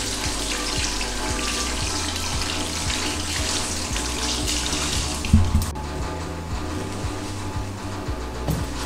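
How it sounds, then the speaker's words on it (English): Hands washed with soap under a running tap: a continuous, steady stream of water splashing into a sink, with a brief knock about halfway through and no talking. "we wash our hands with soap and running water"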